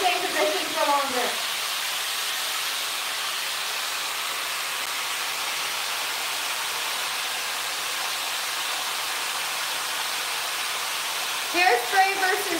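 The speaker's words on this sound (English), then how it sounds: "hold the diffuser in one position for longer" A hair dryer with a diffuser attachment blows a steady, loud airy whoosh for most of the clip while wavy hair is dried, with a voice briefly heard at the start and end.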